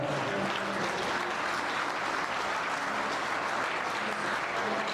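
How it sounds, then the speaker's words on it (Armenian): Wedding guests give the bride and groom loud, sustained applause, a dense even wash of many hands clapping throughout with no break. "մեկ անգամ եւս ավելի բարձր ծափերի ներքո շնորհավորենք մեր Ավո եւ Շուշան զույգի պատվին բուռն ծափահարությունները"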